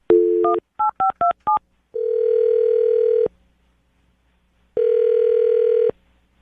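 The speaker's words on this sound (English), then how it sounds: "I'm going to dial the phone number right now." A burst of telephone keypad tones in quick succession, followed by two long, loud ringback tones separated by silence.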